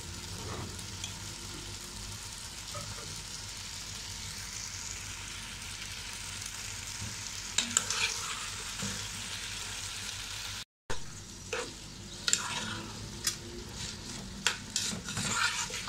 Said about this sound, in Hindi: अब मैं इसको इतना फ्राई करूँगी कि इसकी लेस ख़त्म हो जाए और प्याज थोड़े से सॉफ्ट हो जाए।